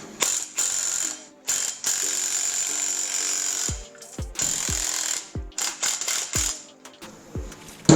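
A Makita cordless power tool removes the rollers from an ATV winch, whirring in short repeated bursts with ratcheting, gear-like clatter and brief pauses between pulls.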